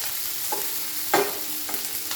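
Capsicum fries with onion and green chilli in a pan, a constant loud sizzle broken by three spatula scrapes at roughly half-second intervals.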